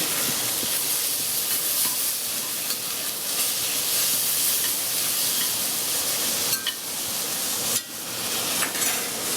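Root vegetables with white wine, thyme and bay leaf cook in a pot for Irish lamb stew, giving a loud, continuous sizzling hiss close by, with a few brief stirring scrapes.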